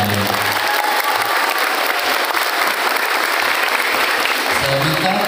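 Seminar audience at a school career day applauding loudly, dense continuous clapping with crowd noise and voices mixed underneath throughout.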